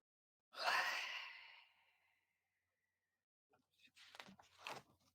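One long, deep breath out, close and breathy, fading after about a second, followed by quieter sniffing breaths in, during a guided breathing exercise.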